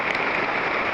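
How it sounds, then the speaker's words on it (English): Heavy rain pouring down in a rainforest, a dense, loud and continuous hiss of drops striking leaves and ground, filling the whole moment without any talking. "It is pouring rain out here in this darn rainforest."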